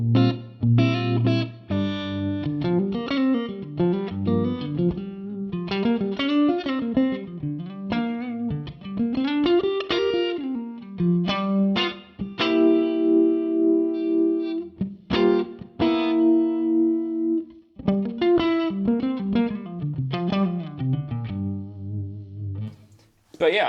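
Electric guitar played through a Fender Super Amp 6G4 on driven, distorted tones, with loud sustained notes and chords in a steady phrase and no talking.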